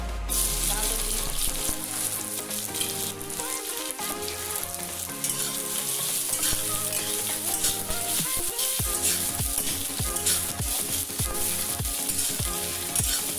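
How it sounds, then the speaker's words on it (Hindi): Chopped onions fry in hot oil, a continuous crackling sizzle running beneath prominent background music for the whole stretch. "तेल हमारी गर्म हो चुकी है तो मैं इसमें सबसे पहले प्याज डालती हूँ।"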